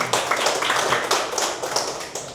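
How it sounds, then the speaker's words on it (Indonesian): A seminar audience applauds, a dense burst of many hands clapping for a couple of seconds, close and fairly loud with no talk over it. "tepuk tangan dong buat ini Bu Family ya"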